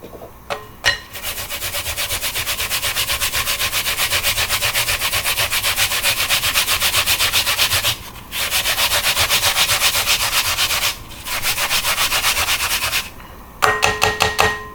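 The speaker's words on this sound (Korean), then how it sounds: "저는 이렇게 항상 갈아 넣어서 먹거든요. 이렇게 해서 조금만 더 갈게요" An apple is grated by hand for spicy bibim noodles, giving a loud, close, rapid rasping scrape that runs in long continuous strokes, broken by a few short pauses and some quick final strokes.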